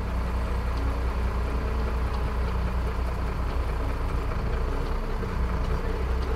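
A tractor-trailer truck's diesel engine runs in gear with the clutch easing out during a trailer brake tug check, a steady low idling rumble throughout, close and continuous with no talking.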